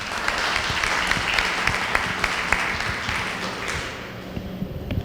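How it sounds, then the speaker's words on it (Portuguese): Audience applause at a sustainability panel, a sustained round of many hands clapping in a conference room that thins out toward the end, with a few scattered claps lingering. "Uma salva de palmas"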